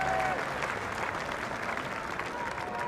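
Cricket crowd at a Wellington Test, New Zealand v England on day four, applauding Kane Williamson's Test century: steady, sustained clapping from a large stadium audience, even in loudness throughout.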